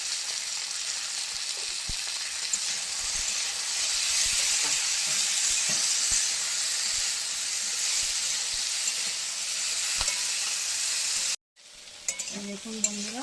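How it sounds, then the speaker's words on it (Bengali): Okra sizzles and fries steadily in a pan, a dense continuous hiss with occasional stirring scrapes, seasoned with turmeric and salt, until the sizzle cuts out abruptly near the end and a few quieter clatters follow. "ঢেঁড়স আর এর থেকে বেশি ভাজবো না"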